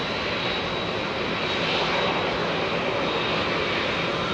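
Finnair airliner engines at Heathrow Airport produce a steady, broad jet roar with a faint high whine, constant and moderately distant, with no voices over it.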